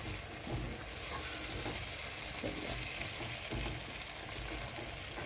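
Bell peppers frying in a pan for chicken jalfrezi give off a steady, close, full sizzle throughout, with faint stirring scrapes and no talking.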